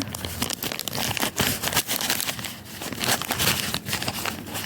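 A paper sachet of baking powder is torn open and emptied while someone bakes a cake at home. Close, continuous crinkling and tearing of paper sounds in uneven bursts.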